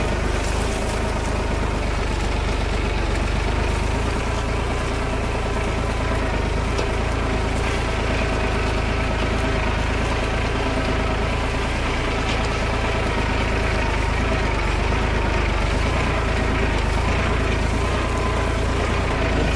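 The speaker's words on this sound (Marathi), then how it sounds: "ट्रॅक्टर एकदम नॉर्मल चालत आहे" A Mahindra OJA 2130 tractor idles steadily in high range with first gear and the brake set, a continuous low, even engine drone that stays close and constant throughout with no talk over it.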